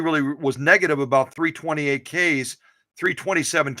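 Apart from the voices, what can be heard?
No distinct noise like a dog, phone or traffic.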